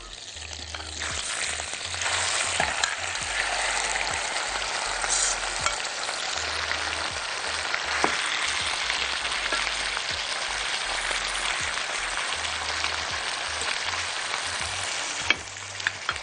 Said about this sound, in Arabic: وهنسيبها تتشوح مع رشة جوزة الطيب